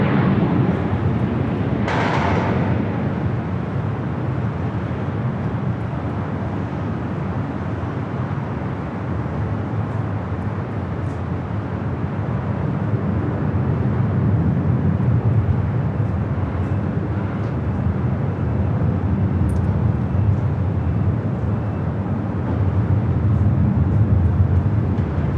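A Qantas airliner rolls down the runway at LAX, a steady, broad jet roar and rumble holding for the whole stretch at a fairly constant, moderately distant level.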